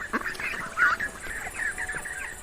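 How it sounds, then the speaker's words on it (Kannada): Cartoon ducks by a river in an animated story, giving a quick run of nasal quacks and calls at moderate volume, close by, with no speech. "ಆಮೇಲೆ ಆ ಬಾತುಕೋಳಿಗಳ ಗ್ರೂಪ್ ಅಲ್ಲಿ ಬರುತ್ತೆ."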